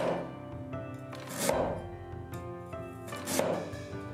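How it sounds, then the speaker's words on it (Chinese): A knife chops ginger into thin slices on a cutting board, with a few sharp, close knocks at roughly two-second intervals over soft kitchen background. "生姜切成薄片"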